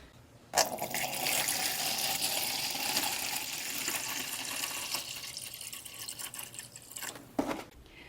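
Tap water pours into a graduated container, a steady hissing splash that starts abruptly and continues for several seconds before tapering with a few clinks near the end.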